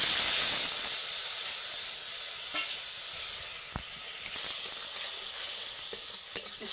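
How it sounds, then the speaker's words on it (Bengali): A wet spice mixture hits hot oil for a vegetarian doi potol curry and sets off a loud, hissing sizzle that stays steady throughout, with a few faint pops and clinks of utensils. "এবার আমি এই যে মিশ্রণটা করে রেখেছিলাম সেটা আমি দিয়ে দিচ্ছি তেলের মধ্যে"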